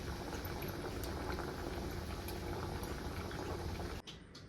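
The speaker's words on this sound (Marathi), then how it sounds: "तेलामध्ये सोडून घेते तेल छान असं तापलेलं आहे सुरुवातीला मी दोनच बिस्किट तळून घेते" Steady, dense crackling sizzle of two wheat-flour biscuits deep-frying in hot oil, continuous and close, ending abruptly near the end.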